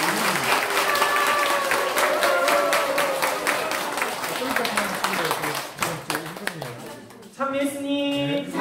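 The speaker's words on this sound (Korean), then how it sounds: "박수 부탁드립니다." Audience applause at a Catholic retreat for visually impaired people, a steady round of clapping mixed with voices and some tonal sounds before it breaks off and something else starts.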